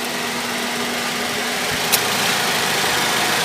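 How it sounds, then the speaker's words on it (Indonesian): Toyota Vios engine idling steadily with the air conditioning switched on, a continuous low mechanical hum and faint whine heard close up, with one brief click partway through and no talking. "Suara mesin"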